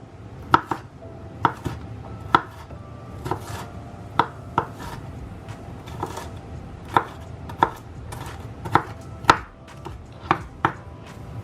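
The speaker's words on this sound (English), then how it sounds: "Now I'm just going to chop down, finely chop some of my celery" Celery being finely chopped with a knife on a cutting board, a steady run of sharp, close knife strikes in an uneven rhythm with no talk.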